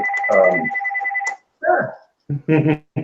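A mobile phone ringtone plays loud and close in short melodic bursts separated by brief gaps, without any talking over it.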